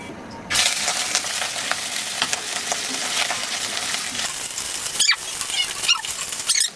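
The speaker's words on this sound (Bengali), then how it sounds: "এখন হচ্ছে ভেজে নেব কড়াই গরম হয়েছে তেলও গরম হয়ে গেছে" Cut pieces of cabbage takti paneer drop into hot oil in a heated wok, setting off a sudden loud, continuous crackling sizzle, with a few spoon scrapes and clinks near the end.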